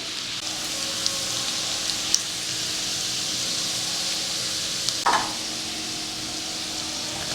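Chicken pieces for dry chilli chicken fry lightly in a pan with a steady, even sizzle throughout and a brief stir of the pieces near the end; no one speaks.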